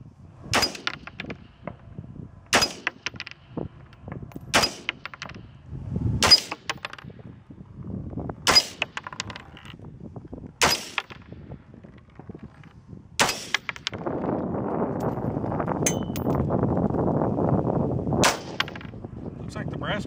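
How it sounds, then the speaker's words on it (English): Rifle rounds fired from shooting tables in single sharp cracks, about eight shots spaced a couple of seconds apart. A steady rushing noise fills the final seconds. "we're going to go ahead and just fire a couple rounds"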